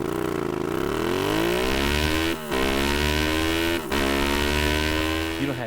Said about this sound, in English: You're really going to get the best sound, the truest sound out of your motorcycle with a full exhaust.